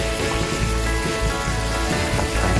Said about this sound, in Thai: ก็ผัดให้ แค่ต้นหอมของเราก็สุกพอประมาณนะครับ